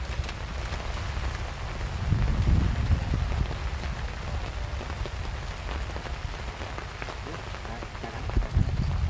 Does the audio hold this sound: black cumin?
no